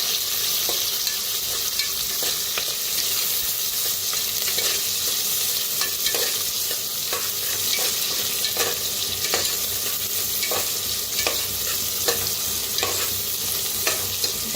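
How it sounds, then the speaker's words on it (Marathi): Curry leaves fry with onion, garlic and green chili in a hot pan, giving a loud, steady, continuous sizzle with scattered crackles and pops throughout and no voices. "कढीपत्ता टाकायचा, भाजून घेऊया."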